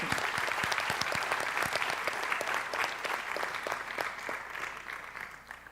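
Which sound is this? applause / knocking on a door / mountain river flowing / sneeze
applause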